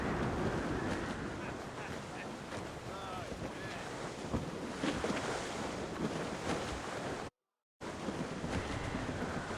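Strong sea wind on a sailing ship in Assassin's Creed Rogue, a dense continuous roar of gusts, waves and rushing water buffeting the deck, loud and steady with a brief cut of silence near the end.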